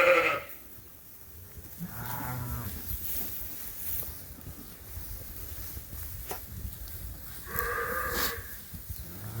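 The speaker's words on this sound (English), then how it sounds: "This sheep is a high capacity ewe." A high-capacity ewe bleats in a lambing barn, two or three wavering calls spread over several seconds amid faint shuffling and other livestock noise, with no talk.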